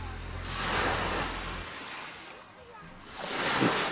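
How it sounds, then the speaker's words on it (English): Small, clear-water ocean waves wash gently onto a smooth-sand beach at Cayo Coco, Cuba, swelling and receding in slow surges, with a low rumble early on fading away. "Peaceful, beautiful sound of these little waves."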